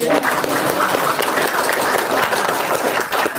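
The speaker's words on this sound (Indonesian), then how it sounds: "tepuk tangan semua dong" Dense, continuous clapping from a crowd, loud and steady for a few seconds.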